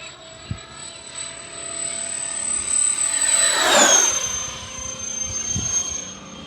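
An FMS A-10 Thunderbolt II V2 radio-controlled jet with twin 70mm electric ducted fans makes a fast low pass, its whine rising as it closes in, peaking loudly overhead and dropping in pitch as it moves away outdoors.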